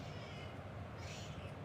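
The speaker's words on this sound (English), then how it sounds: "My cat is complaining that I'm being too loud." A house cat meows faintly and briefly in a quiet room, soft and distant beneath a low background hum, with no one talking.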